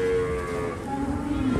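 Cattle, mostly cows, low at a busy Sukorejo livestock market, a drawn-out moo rising above steady crowd murmur with another animal calling faintly near the end.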